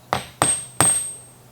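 Three sharp hammer strikes land at an uneven pace, each loud and close with a short ringing decay, heard alone with no talk.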